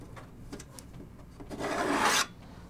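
Metal 3.5-inch drive sled sliding in a PC case, a scraping rasp that builds to one loud sustained rub lasting under a second before stopping abruptly, preceded by a few light clicks and taps.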